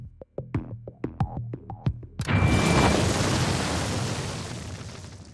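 Dynamite muffled under piled sandbags goes off with a sudden deep blast after a series of sharp clicking taps, followed by a long roaring rumble and debris hiss that slowly fades.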